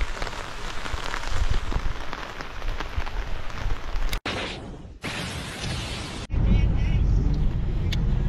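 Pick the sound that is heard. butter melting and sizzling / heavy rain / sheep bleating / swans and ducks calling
heavy rain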